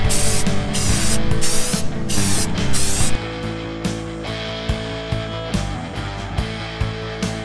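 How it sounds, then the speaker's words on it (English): Universal bonding primer sprayed from a can onto wooden motorcycle side covers, first in a long continuous hiss, then in short repeated bursts, close up and loud. "I'm gonna hit these guys with some universal bonding primer"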